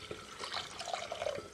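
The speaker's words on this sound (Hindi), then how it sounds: "अब कीमा अच्छी तरह से भुना जा चुका है तो हम यहाँ पर पानी शामिल करेंगे।" Water is poured into a pot of roasted keema for keema pulao, a soft splashing, gurgling stream at moderate volume.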